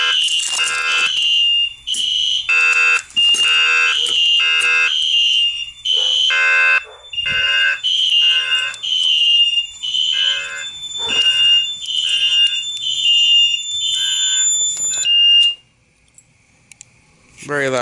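A loud, harsh Gainwell Sentry fire alarm siren blares continuously in pulsing bursts for most of the clip during a system test, then cuts off near the end.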